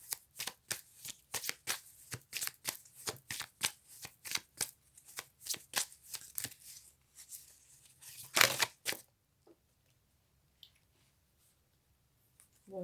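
A deck of tarot cards being shuffled close up, a quick run of crisp riffling flicks for about eight seconds ending in a sharper snap, then near silence.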